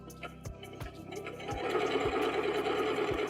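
Sewing machine running a lightning stitch through stretch fabric along the top of a bodycon dress neckline, a steady mechanical whir with periodic thumps that builds louder and denser in the second half.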